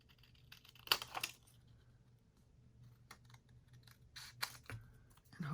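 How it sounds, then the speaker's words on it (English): Scissors cut through a paper card for an Easter junk journal, a few crisp snips and rustles close by with quiet gaps between them. "I'm going to take my scissors and just cut this out like this."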